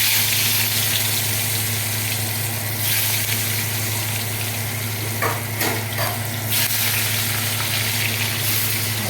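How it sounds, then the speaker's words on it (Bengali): Potato pieces frying in hot oil in a home kitchen while a Bengali fish curry is being made, giving a loud, steady sizzle and crackle with brief stirring scrapes and no talk. "এবার একটু করে ভেজে নেবো আলু।"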